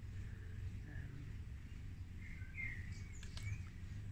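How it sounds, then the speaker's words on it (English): Faint, scattered bird chirps and short calls over a low background rumble, distant and sparse. "birds singing and squawking"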